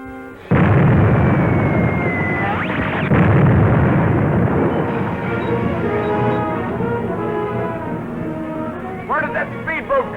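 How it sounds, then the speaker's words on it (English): A ship's deck gun fires in a 1945 film serial, a loud booming blast with sustained rumbling explosions and a sweeping tonal whine over a dense battle soundtrack. "But our deck gun has the range."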